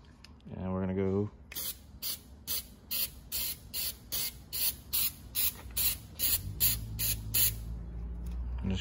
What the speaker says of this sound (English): You want to take this seal, this rubber seal, and we're just gonna spray it.